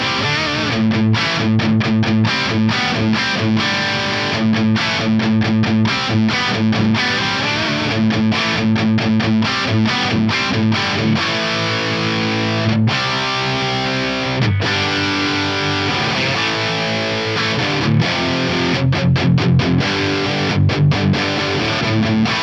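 Distorted electric guitar through the Fractal Audio ICONS Pasadena plugin's FAS Brown amp with gain raised, plate reverb and an impulse response, playing loud chugging riffs with palm-muted stops and sustained chords, alone.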